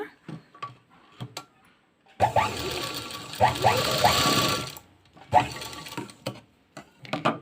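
Close, clicky bursts of a sewing machine stitching a folded tassel edge, with a longer run in the middle and short stops and handling noises between them, no voices.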